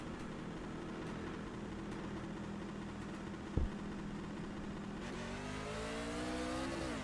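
Race truck engines in a truck racing sim drone at a steady high pitch, the leaders' trucks rising and sweeping past near the end, loud and continuous with no talk.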